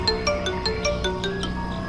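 A mobile phone ringtone plays during a scene in the Hindi TV serial Kumkum Bhagya, a repeating melodic chime with evenly spaced bright notes, steady and clear with no talking.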